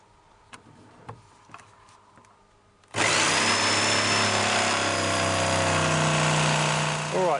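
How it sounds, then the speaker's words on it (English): Light knocks and handling sounds come first, then a jigsaw starts loud and close, cutting a hole in a plastic wheelie bin with a steady buzzing drone until it stops at the end. "now it's just a matter of just getting the jigsaw and we'll cut around here."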